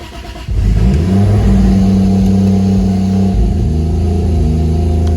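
Mk3 Toyota Supra engine idling and revving nearby at night, a steady mid-pitched drone that swells after a quiet start and holds with a faint hum.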